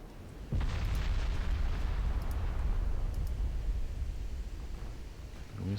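A shell strikes a warship and bursts in a loud, sustained explosion in a naval battle game, a deep rumbling roar that begins abruptly and slowly tapers off, with no one talking.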